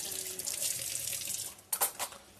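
Water runs from a tap into a sink in a house kitchen, a soft steady rush that ends with a few louder splashes as the flow is disturbed or shut off.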